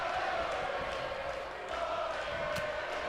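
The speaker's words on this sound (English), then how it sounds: "You just hear the crowd just chanting "Ole" for Sami Zayn" Large arena crowd in a WWE 2K wrestling match between Sami Zayn and Chad Gable, a dense sustained roar with a rhythmic chant running through it, steady and fairly loud, with a voice talking over it.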